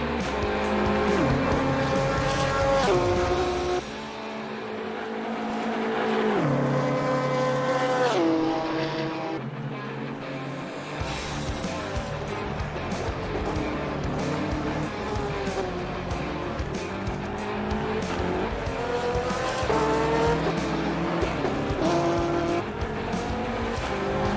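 A BMW GT3 race car screams around Spa-Francorchamps in a racing video game, its engine loud and continuous with rising and falling gear pitches, brief downshifts and a short lull before the revs climb again.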